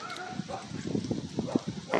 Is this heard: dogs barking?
yes